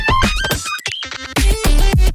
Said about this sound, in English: I turn the shifter an octave down on the master channel.